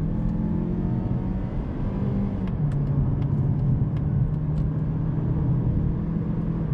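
A Mazda CX-30 e-Skyactiv G accelerating hard in sport mode on a highway, heard from inside the cabin as a steady, loud engine drone with continuous road rumble throughout and no talking.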